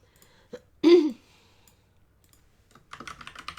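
Fingers type on a computer keyboard in a quick, close run of light key clicks after a brief sigh-like breath and a short pause.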